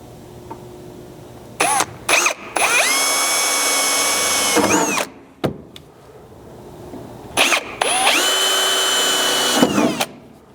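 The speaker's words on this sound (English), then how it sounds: "I've just got an 1/8 inch drill bit that I'm going to use as a pilot hole at all 4 locations" A power drill with a 1/8 inch bit whines loudly in two bursts of a few seconds each while drilling pilot holes, with a brief pause between, its pitch rising as the motor spins up.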